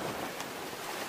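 Ocean waves strike the side of a small trimaran sailing offshore, a steady close wash of water and wind rushing over the hull with no voices.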